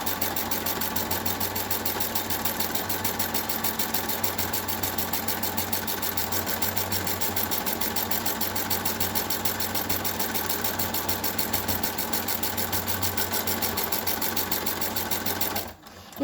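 A sewing machine stitches a chair cushion in one long, steady run of fast mechanical whirring and needle chatter, loud and close, stopping abruptly at the very end.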